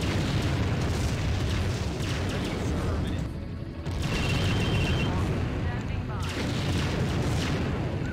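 Artillery shelling in the Empire Earth real-time strategy game: a heavy, continuous barrage of booming explosions and rumbling blasts, loud and dense, briefly thinning before resuming, with faint mechanical clanks mixed in.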